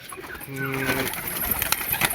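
Soft, low pigeon cooing close by, a few mellow hums over light background noise and faint rustling.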